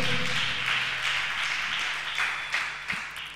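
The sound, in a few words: congregation clapping loudly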